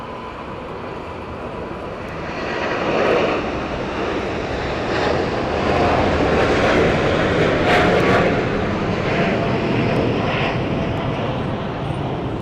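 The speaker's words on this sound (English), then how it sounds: "Cargo Lux 747. Here we go. I hear the GENX-2B engines." A Cargolux Boeing 747 with GEnx-2B engines at LAX, a loud, sustained jet roar that swells and holds as it passes close, alone without talk.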